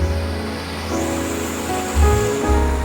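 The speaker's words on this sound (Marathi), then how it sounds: "एक पाण्याचा आवाज आहे बघा फुल्ल प्रेशरनं पाणी" Water rushes steadily and loudly down a waterfall near a temple, under full pressure, a continuous roaring hiss with deep low rumbling, and no voices.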